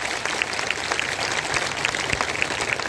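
A large crowd claps steadily at an outdoor political public meeting in Takhatpur, Chhattisgarh, a dense, continuous patter of applause heard fairly close and loud throughout.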